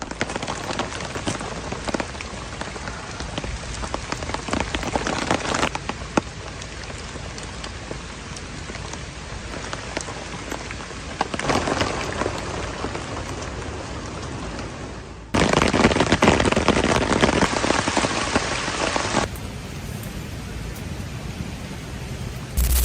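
Relentless heavy rain soaking a forest campsite, a dense, steady hiss of drops pattering on surfaces that swells louder in places and continues without a break.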